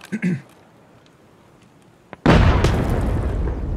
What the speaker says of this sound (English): we just got naded